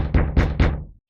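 Three firm knocks on wood in quick succession, close and loud, each with a short hollow decay, and no voices.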